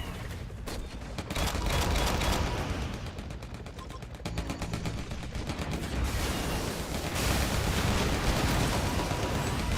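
Rapid gunfire from shooting in the video game AirMech, a dense continuous barrage of shots layered with explosive bursts, loud and close throughout, with brief talk mixed in.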